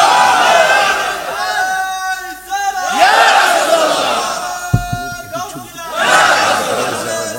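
A large audience at a Bengali Islamic religious gathering shouts takbir loudly in unison, in several forceful, drawn-out chanted bursts separated by brief pauses.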